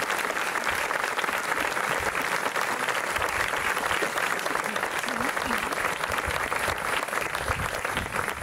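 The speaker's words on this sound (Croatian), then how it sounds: "Pozdravimo ih velikim pljeskom." An audience at a klapa singing festival on Pag breaks into sustained, dense applause, loud and continuous throughout with no pause in the clapping.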